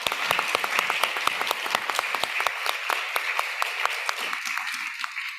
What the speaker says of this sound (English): if I can ask you for a round of applause for our panelists